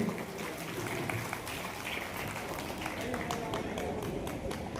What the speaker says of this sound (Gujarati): તાળીઓનો અવાજ કમ ન થવો જોઈએ